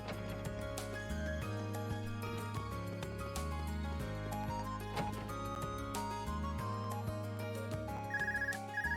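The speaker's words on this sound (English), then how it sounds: "get a phone call" A video game phone ringtone from Trails of Cold Steel plays a bright electronic melody over a steady bass line, looping for several seconds with no voices.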